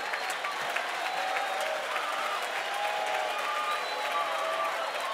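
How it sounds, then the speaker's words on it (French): A church worship congregation claps steadily and densely throughout, a sustained wash of applause with faint cheering mixed in, moderately loud and continuous. "Can you clap hands for God?"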